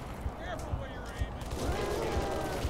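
Halo 3 gunfire during a Floodgate mission fight, with short sharp shot bursts scattered through the clip amid ongoing combat noise, while a player talks throughout.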